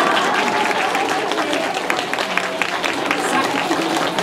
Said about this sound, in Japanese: 拍手か。